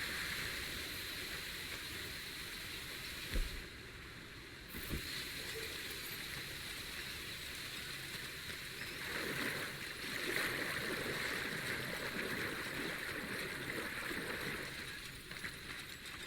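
Waterfall in Red Dead Redemption 2, a constant broad hiss of rushing water heard at a steady moderate level, with a few faint thumps and no talking.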